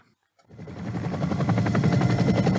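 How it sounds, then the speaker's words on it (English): A helicopter's rotor chop fades up from silence and grows into a steady, loud, rhythmic thumping with a broad engine roar beneath it, heard alone. "We're on the chopper."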